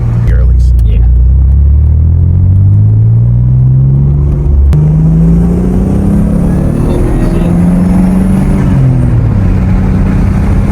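A tuned Mitsubishi Evo engine pulls at part throttle, a loud close-up rumble with pitch climbing steadily through the gears and one brief shift dip, heard from inside the car with people talking over it.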